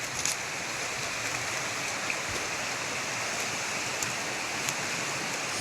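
A creek flows steadily through the woods in a continuous broadband wash of moving water, even and unbroken, with no one speaking.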